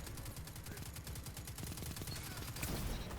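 Shotgun fire crackles in a video game match on a map with wide open sightlines, a fast run of repeated blasts under a dense, continuous rumble that stays fairly quiet throughout.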